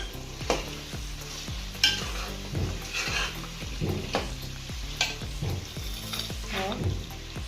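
Karahi gosht frying in ghee over lowered heat with garam masala, a close sizzle under regular scraping stirs and clinks of a spoon against the pan, no speech.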